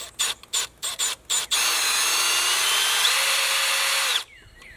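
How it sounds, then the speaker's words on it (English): A Milwaukee cordless drill turns an oil primer tool on a box Chevy engine: five short quick bursts, then one long steady whir that cuts off. Close and fairly loud. "Got the drill hooked up on the primer tool"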